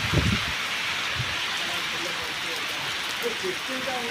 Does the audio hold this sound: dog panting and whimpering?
no